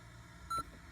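A single short electronic beep from a Power Acoustik CP-650 Apple CarPlay car head unit, a brief steady tone lasting about a tenth of a second over quiet background.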